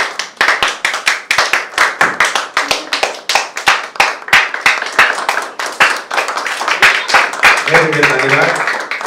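Audience applause at a certificate ceremony for a personality development and announcer training course: sharp, rhythmic, in-unison clapping from a crowd, loud and near, with a voice speaking briefly near the end.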